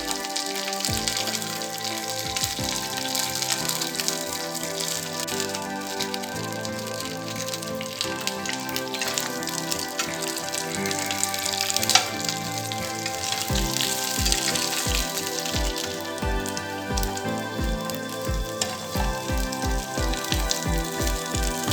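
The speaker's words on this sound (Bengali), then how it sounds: "এবার দিচ্ছি আমি আলু।" Potatoes frying in a pan with curry leaves for a sweet-and-sour spiced potato dish, a continuous close crackling sizzle with scattered spatters and pops, no speech.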